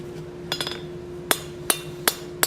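Hand hammer striking hot steel being forged into a rounded scroll for a plant hanger, a handful of sharp, ringing metallic blows at uneven intervals, close and clear over a steady low hum.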